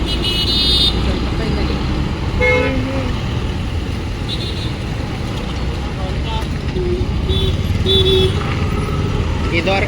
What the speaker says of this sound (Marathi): एकशे गाडी इकडून येते बघा